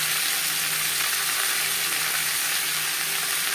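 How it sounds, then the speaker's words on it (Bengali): Potatoes and tomatoes fry in a pan with a steady, bright sizzle, constant and close throughout, with no voices. "3-4 মিনিট আলু ভেজে নেওয়ার পর দিয়ে দিলাম টমেটো।"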